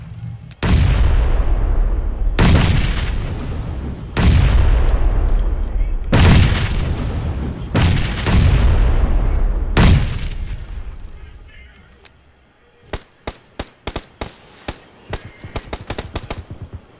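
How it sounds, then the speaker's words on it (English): Loud PUBG battle among trees: a run of heavy grenade blasts and bursts of gunfire, each boom rolling off with a long decaying tail, then a scatter of sharp, separate gunshots near the end. "throwing grenades at me over here behind these trees"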